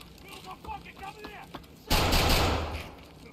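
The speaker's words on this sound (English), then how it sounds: "What are they shooting at?" Gunfire bursts out loudly midway through a round of the video game Escape from Tarkov, a dense volley following a stretch of quieter game ambience and faint activity.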